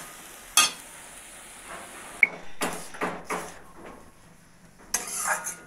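A masala of cumin, coriander, turmeric and slit green chilli is sautéed in a pan, heard as a few sharp spatula clanks and scrapes in bursts over a faint, quiet sizzle.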